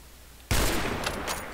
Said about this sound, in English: Good thing that they gave me this sniper rifle.